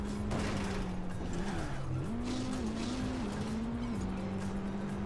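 A car in the Trackmania 2 Lagoon racing game holds a steady engine drone that dips and climbs in pitch as it brakes and skids, with a continuous tire hiss underneath.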